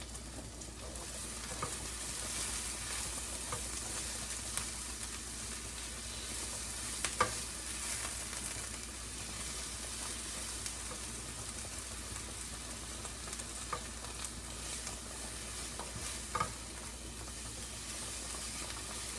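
Cheeseburger pasta ingredients with onions and butter frying in a pan, a steady, fairly quiet hiss of sizzling under occasional soft scrapes of stirring, continuous and close, with no voices.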